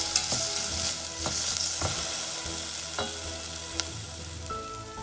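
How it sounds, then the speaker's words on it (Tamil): Tomatoes with salt and turmeric powder sautéing in a pan for drumstick leaf soup, a steady sizzle broken by several sharp spoon scrapes and taps against the pan, fairly close and without any voices. "மஞ்சள் தூள், தக்காளி நல்லா வதங்கணும்."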